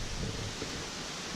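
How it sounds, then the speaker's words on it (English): Steady wind gusting through trees and grass around a rural home on a sunny day, a continuous broadband rustle of moving leaves with mild microphone buffeting, fairly loud and unbroken throughout. "And it's windy too"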